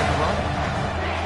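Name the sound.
home crowd cheering at a football game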